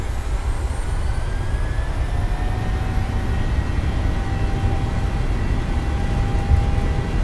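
Airliner engines spooling up to takeoff thrust in Microsoft Flight Simulator 2020: a steady, dense roar with thin rising whines climbing slowly over the whole stretch, with no voices.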